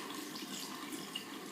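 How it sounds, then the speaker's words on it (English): Water runs steadily from a tap while a paint brush is rinsed under it, a soft continuous splashing hiss at moderate distance with no speech. "So get it wet, and you see the water,"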